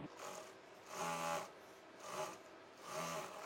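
A sewing machine stitches cloth in three short bursts of rapid mechanical whirring, moderately close and fairly quiet, with brief pauses between runs.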